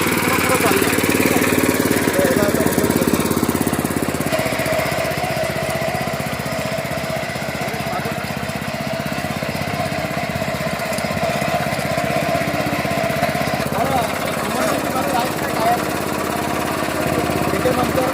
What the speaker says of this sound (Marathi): आणि मशीनचा रेस वाढवला